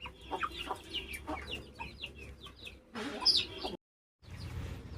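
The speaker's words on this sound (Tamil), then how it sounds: "இந்த கிரே கோழி அழகாக பக்கத்தில் வந்துச்சு" Chickens cluck and chirp in short, scattered bursts nearby, with some excited squawks, over a low outdoor background.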